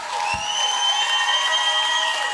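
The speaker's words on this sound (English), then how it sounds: "how about a big round of applause for our friend Joe Becker?" A live show audience applauds and cheers in a steady, moderately loud wash of clapping and voices, with sustained whoops carrying over the top.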